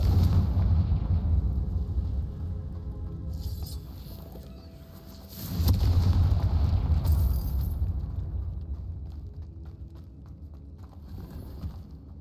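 A Confringo fire spell bursts in Hogwarts Legacy, a booming blast swelling from about five seconds in and trailing off, set over steady low game rumble with an earlier softer burst.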